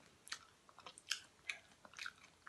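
Close, crisp chewing and biting of a crunchy nut-topped donut, with a run of distinct crunches in an uneven rhythm and no talking.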